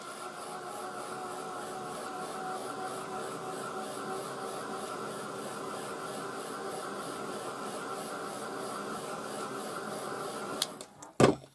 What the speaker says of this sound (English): So now I want to dry that a little bit with my heat gun.